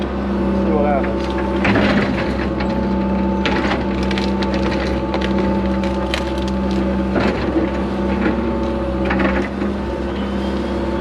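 A 120 excavator and D4G dozer clearing a steep riverbank push a tree over, and the wood cracks and splinters in loud bursts over a constant diesel engine rumble as a voice talks.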